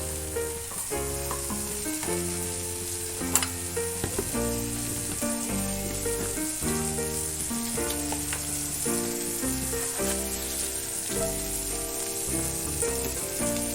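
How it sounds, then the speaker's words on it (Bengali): White cooking oil sizzles steadily in a pan for chicken bhurji, a continuous bright frying hiss running throughout, with melodic background music layered over it. "আমি আর একটুখানি সাদা তেল দিয়ে দিচ্ছি এপাশে, দিয়ে গরম করে নিচ্ছি।"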